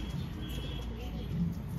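Low, soft cooing from a pigeon kept in a home loft, faint and rumbling beneath steady background noise, with one slightly stronger coo near the end.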